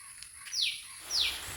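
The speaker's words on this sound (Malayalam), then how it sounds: "കിളികളുടെയൊക്കെ ഈ ശബ്ദമാണ് നമ്മളെ കൂടുതൽ ഇതിനെയൊക്കെ പ്രോത്സാഹിപ്പിക്കുന്നത്." Birds chirp in a rambutan fruit garden, with two quick, bright, downward-sweeping calls about half a second apart over a faint, quiet background.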